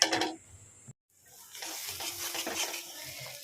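Papaya mash being stir-fried in oil in a pan, a sharp scrape and clatter at the start, a brief pause, then a continuous soft sizzle with stirring scrapes.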